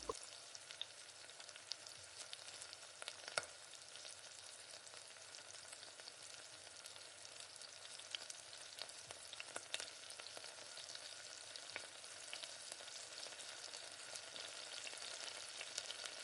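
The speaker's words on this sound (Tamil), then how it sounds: "இந்த மாதிரி திருப்பி விட்டு எல்லா சிக்கனையும் இந்த ஒரே மாதிரி பொரிச்செடுக்கலாம்." Chicken pieces frying in oil in a pan, a steady soft sizzle with faint crackles running throughout, fairly quiet and without voices.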